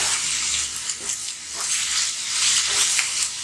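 Onion sautés in a pan for lamb kidney fry, making a close, steady hiss and sizzle that swells and eases slightly throughout, with no speech.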